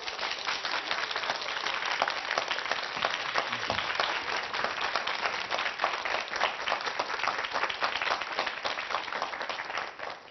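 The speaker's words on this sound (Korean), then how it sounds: "한수위 소장님을 큰 박수로 모시겠습니다." Sustained audience applause welcoming a lecturer onto a televised talk stage, dense even clapping from a large crowd lasting the whole stretch and tailing off at the very end.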